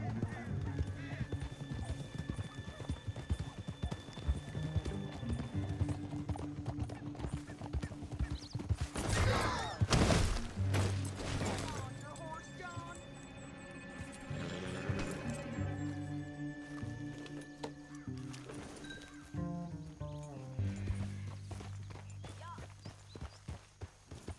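Horse hooves clip-clop in the video game Red Dead Redemption 2, a steady rhythmic clatter with a whinny and a crash midway, under music and voices talking.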